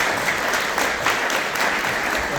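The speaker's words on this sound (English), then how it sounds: "Once again, we can give a big round of applause." An audience at an ISKCON Toronto Sunday feast lecture gives a steady round of applause, with dense, sustained clapping from a crowd and no talking.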